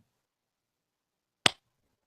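One sharp hand clap from a man during a podcast recording session, a single crisp impulse in near silence, close and brief with a quick decay.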